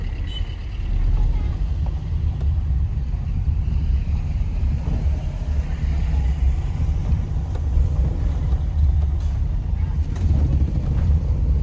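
A car on the road to Parli Vaidyanath, heard from inside as a steady low engine and road rumble with some wind noise, continuous and fairly loud throughout.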